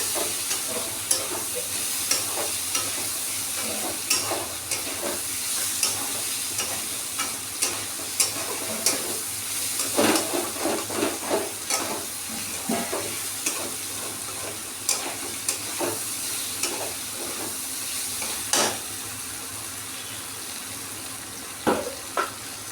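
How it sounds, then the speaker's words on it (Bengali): Yardlong beans fry in a pan with a moderate, steady sizzle, broken by regular scraping and tapping as they are stirred over about twenty seconds; no voices. "তো আমরা দেখো বরবড়িটা ভাজা হয়ে আসছে প্রায়"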